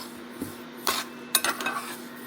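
Flaxseeds dry roasting in a pan, heard as a few scattered light scrapes and clinks of a spoon against the metal, with short bursts of rattling seeds over a steady low hum.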